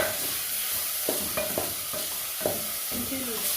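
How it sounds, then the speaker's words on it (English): Minced meat fries in a pan with a steady, soft sizzle while a spatula scrapes and taps through it in several short strokes, close and fairly quiet, with no talking. "Stir completely"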